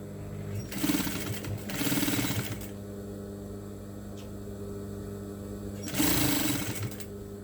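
A sewing machine stitches binding onto a table mat in three short whirring bursts, close and steady, separated by pauses with a constant low background hum.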